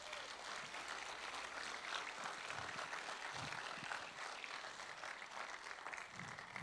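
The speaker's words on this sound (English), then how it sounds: "We're going to give you a huge round of applause as he comes up." An audience at a ten-year celebration event applauds steadily, a soft, distant, even wash of many hands clapping with no talk over it.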